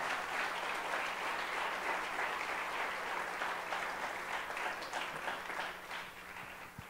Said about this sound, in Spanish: Dale un aplauso fuerte al Señor con toda libertad